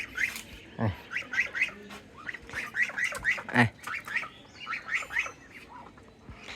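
Domestic geese on a farm calling in a busy flock, with repeated nasal honks and squawks overlapping near the microphone. A few louder calls stand out over a steady chatter of the flock.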